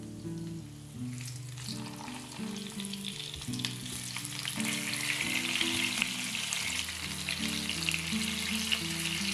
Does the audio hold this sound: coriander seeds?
yes